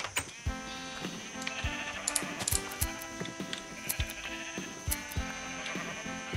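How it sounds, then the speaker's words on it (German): Sheep in the Minecraft video game bleat again and again over busy game music with plucked notes, each bleat short and clear against the steady background. "Geh mal weg da, du Schaf."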